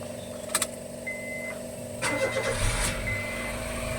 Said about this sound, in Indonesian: Ini kita start dulu mesinnya.